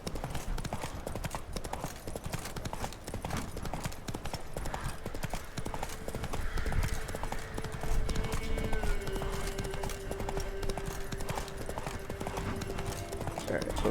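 Roach the horse gallops in The Witcher 3, steady rapid hoofbeats pounding throughout against game ambience, with a brief whinny-like tone and a voice faintly underneath.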